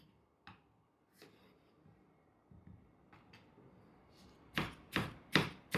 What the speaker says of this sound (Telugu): కొద్దిగా పుదీనాను కూడా కట్ చేసుకున్నాం.